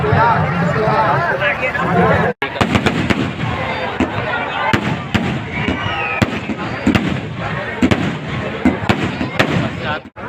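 Repeated sharp fireworks bursts crackle and pop over a busy crowd at a Dussehra Ravan Dahan festival, with people talking and cheering throughout.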